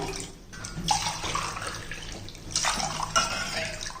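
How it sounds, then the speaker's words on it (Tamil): About two cups of water splash and pour steadily into a metal pan, a close, continuous rushing with brief pauses and no talking. "இப்போ இதில் வந்து ஒரு 2 கப்பு தண்ணி ஊற்றிக்குவோம்."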